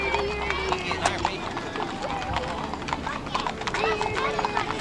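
Mules and horses clip-clopping through the Mule Day parade in Columbia, Tennessee, 1995: a steady, busy patter of many hooves on pavement, with an occasional whinny and a murmur of crowd voices underneath.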